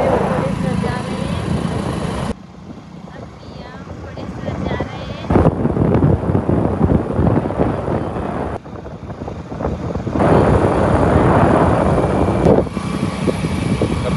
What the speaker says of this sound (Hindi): अभी हम बाइक पे चल रहे हैं।